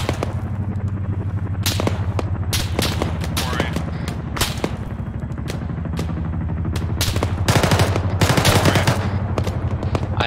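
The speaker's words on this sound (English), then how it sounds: "Taking fire." Gunfire in the military shooter ArmA 3: rapid bursts of automatic fire and sharp single cracks crowd together over a steady low rumble, swelling louder and denser toward the end.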